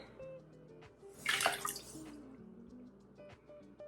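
Salt stirred into a tub of warm Rit dye water, a soft swishing and splashing swell in the middle, faint and close, with light drips and small clinks before and after.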